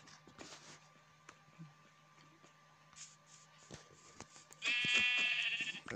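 A faint room with scattered clicks and taps, then a short, loud electronic Minecraft sheep bleat near the end, buzzy and synthetic.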